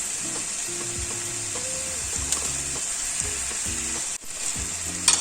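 Chicken fries with chicken masala powder in a pan, giving a bright continuous sizzle with occasional stirring scrapes and a background tonal hum.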